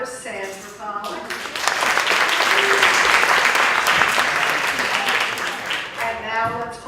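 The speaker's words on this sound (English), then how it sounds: "let's hold our applause for until I stop for the rest" Loud applause from an audience, building quickly and sustained for several seconds before tapering, with faint voices around the edges.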